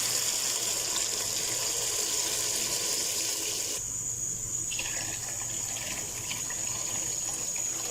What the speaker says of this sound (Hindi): चावलों की अकॉर्डिंग इसमें 1 लीटर पानी डाल देंगे